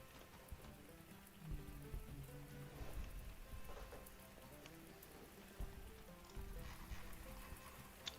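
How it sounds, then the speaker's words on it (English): Rain in the Grand Tactician Civil War strategy game, a steady patter of drops on surfaces running throughout with faint thuds and low rumbles beneath, fairly quiet and with no talk. "Rain is here."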